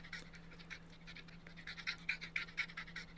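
A puppy in the video game Long Dog pants in quick, breathy bursts that grow faster and louder toward the end, heard faintly over a low steady hum.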